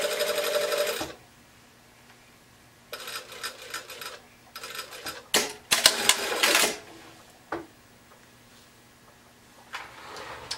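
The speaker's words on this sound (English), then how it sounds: "we're going to sew right to that miter and stop right on that seam line" Sewing machine stitching a knit T-shirt neckline band up to a mitered corner, loud close bursts of rapid rattling stitches in short stop-start runs separated by quiet pauses.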